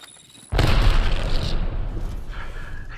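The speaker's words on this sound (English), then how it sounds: "Incoming grenade." A grenade goes off in Apex Legends: a sudden loud boom after a half-second of quiet, followed by a long rumbling, crackling decay.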